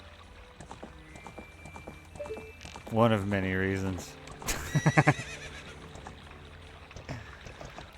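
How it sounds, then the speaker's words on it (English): A horse in Ocarina of Time lets out a loud, wavering whinny, followed by a short run of snorting bursts, with light hoofbeats underneath. Someone talks briefly over it. "This is why horses shouldn't have heads."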